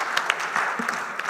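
A short round of audience applause at the close of a talk event, steady dense clapping at moderate volume with a faint voice underneath.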